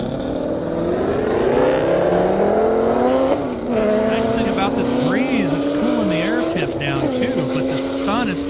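A Pontiac GTO and a Corvette Z06 rated at 810 horsepower drag race on an airstrip with loud, rising engine howls that shift through gears. A commentator talks over the roar.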